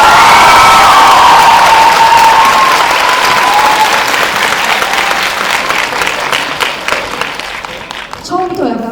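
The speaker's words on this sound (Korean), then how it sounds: "박수 한번 다시 부탁드립니다." Audience applause fills a theater during a Korean film screening event for the movie 'Hero', loud, sustained clapping with scattered cheers that gradually thins toward the end.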